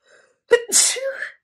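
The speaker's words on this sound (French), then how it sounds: "Attendez, est-ce que je vais éternuer?" A single sharp sneeze, with a short breathy intake and then a loud, explosive release, close by in an otherwise quiet room.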